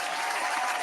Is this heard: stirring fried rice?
no